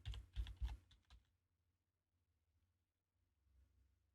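Keys clatter on a computer keyboard in a short quick burst of close, crisp taps. Faint room quiet follows.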